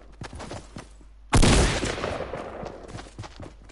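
Gunfire in the video game Fortnite: light scattered pops early on, then a loud, sharp burst of shots near the middle that rings out and decays into continued rattling fire.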